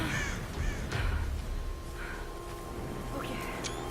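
Crows caw a few times in Tomb Raider, the calls fairly near and clear above a low game ambience, with scattered brief sounds around them.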